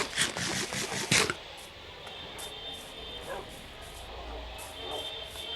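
A dog barks in a video game, giving a quick burst of several close, yappy barks at the start, then only a steady low background hum and faint game noises.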